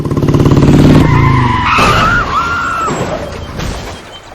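A motorbike skids in a road accident in a dramatic film scene: a loud engine roar gives way to a sharp, sustained tire squeal lasting a couple of seconds, then scraping fades out.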